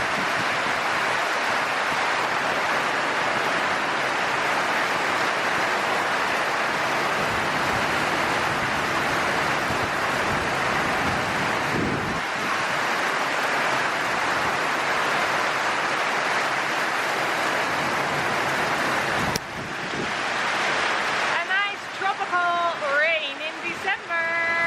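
Heavy rain pours steadily on a home in Tanzania, a dense, even hiss that holds unbroken for most of the stretch before a brief voice and clatter break in near the end.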